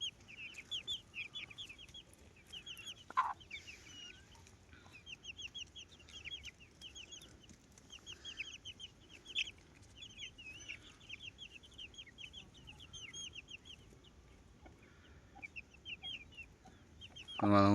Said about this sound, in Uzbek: Qolgan hammasi xo'roz.